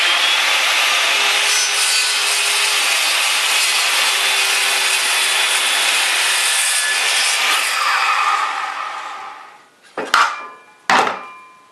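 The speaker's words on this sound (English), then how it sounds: "back up your saw, get it up to speed, and go ahead and cut on all the way through in a nice," Power saw running at speed and cutting straight through a piece of wood in one smooth, steady pass for about eight seconds, loud and close, then winding down, followed by two short sharp knocks.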